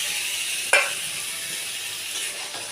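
Meat is tipped into a pan of spice paste for a thin meat curry, giving a sharp burst of sizzling and scraping that settles into a steady hiss of frying.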